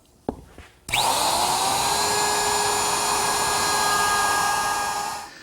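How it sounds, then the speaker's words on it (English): A wood router fitted with a 3/8 inch radius bit spins up loudly and shapes the edges of a table top, giving a steady, near, high-pitched whine that holds for several seconds after a couple of short clicks before fading. "I'm using a 3/8 inch radius bit, just a portion of it though."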